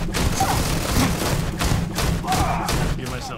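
Gunfire in Starfield, with a string of heavy thuds and booming shots in fast irregular bursts across the whole stretch, mixed with game noise and a voice talking over it.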